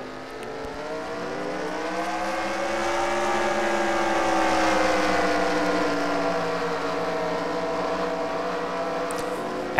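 A field of race car engines idling and building together in a NASCAR-style stock car video game at Kansas, a dense layered drone of many motors swelling slightly louder mid-clip, steady with no voices.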